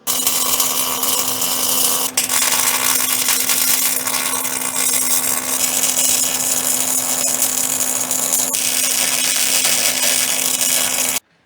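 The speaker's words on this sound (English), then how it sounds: "Let me get this welded in first." Welding 2.5 inch steel tubing for a driveshaft loop on an LS car, a continuous loud crackling hiss with a steady hum running nearly unbroken for about eleven seconds, close up and alone.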